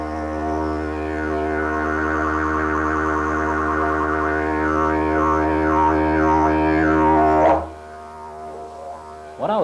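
Didgeridoo imitating a boomerang flying through the air, a deep steady drone with a swooping, rising-and-falling whirr shaped by tongue pulses, loud and close, cutting off abruptly near the end with a brief breath after.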